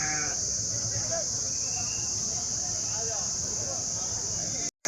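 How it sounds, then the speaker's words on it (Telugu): Sheep bleat at a crowded livestock market in Kadiri, held ahead of Bakrid, with calls rising above a constant busy background of voices and a steady high-pitched hum. "బొడుగులు అన్నీ గొర్రె బొడుగులు అండి ఇవన్నీ"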